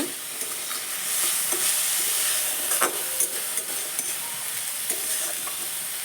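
Mixed vegetables frying in a pan on a low flame, stirred with a spatula: a steady soft sizzle with a few scraping stir strokes, close and moderately loud, no talking.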